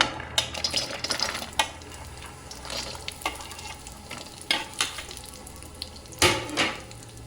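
Walnuts frying in ghee over very low heat sizzle steadily while a spoon stirs and scrapes the pan, making intermittent clinks and a few louder scrapes near the end, with no voices.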